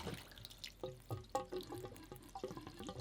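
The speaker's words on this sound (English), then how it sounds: "Now I can open up the valve at the top here and we can test to see if the valve above is holding. So we should get a little bit of water out" Water trickles from an opened valve on a whole-house booster pump, coming out as faint irregular drips and splashes, close by and quiet.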